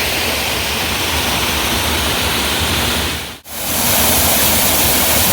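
Water from a paddy field channel spills over rock at the small Kuruthikuzhi waterfall, making a constant close hiss and roar that cuts out almost completely for a split second near the end, then resumes.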